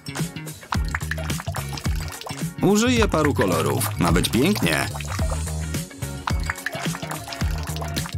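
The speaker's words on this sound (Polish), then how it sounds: "Przygotuję miskę z wodą i wleję do niej lakier." Nail polish is poured into a bowl of water, giving soft drips and trickling splashes under someone speaking steadily over bright background music.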